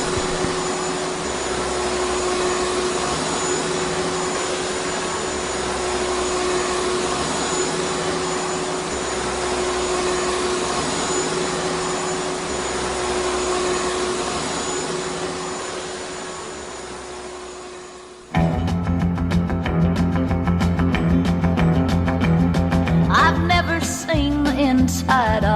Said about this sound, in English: Mrs. Curtains has just popped in to do a spot of hoovering.